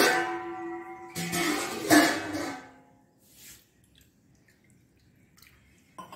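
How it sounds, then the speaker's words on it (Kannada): Cold water poured from a container into a bowl in a home kitchen, a short splashing pour in two bursts followed by a few faint drips before quiet. "ಬಿಸಿ ಆಗ್ತಾ ಇರುವಾಗ ನಾವು ಒಂದು ಬೌಲನ್ನು ತೆಗೆದುಕೊಂಡು ಇದರಲ್ಲಿ ಸ್ವಲ್ಪ ತಣ್ಣೀರನ್ನು ಹಾಕೊಳ್ಳೋಣ."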